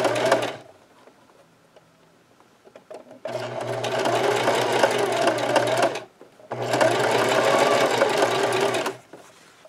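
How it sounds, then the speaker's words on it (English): A sewing machine stitches along the edge of a fabric scrub cap in two sustained runs of steady motor hum and rapid needle chatter, each lasting about three seconds, separated by short quiet pauses, close and loud with no talking. "I'm gonna stitch that close to the edge"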